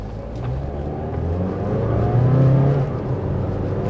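A Hummer H3 accelerates on a test drive track, its engine droning steadily and climbing in pitch as it revs up toward 55, heard from inside the cabin with no talking.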